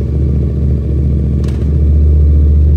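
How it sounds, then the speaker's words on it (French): A motorcycle engine idles and then runs into first gear during a bike cleaning, a close, steady low chug with a brief metallic clatter midway and a deeper settled hum at the end. "je vais démarrer la moto. Et en démarrant la moto, ici, on va mettre une première."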